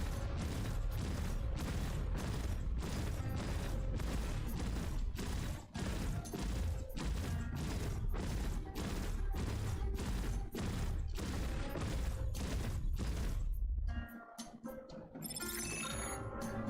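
Dense, continuous rapid-fire bursts of ship guns in a space combat video game, loud and unbroken for most of the stretch, then breaking off into a sparser mix of electronic tones near the end.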